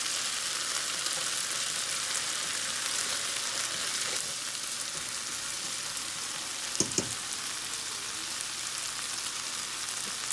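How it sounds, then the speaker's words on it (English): Two eggs fry in a pan while being stirred and scrambled for fried rice, a steady even hiss of sizzling fat, loud and close, with a couple of faint utensil knocks and no voices. "I'm going to throw my 2 eggs in, and we're going to go ahead and fry those up"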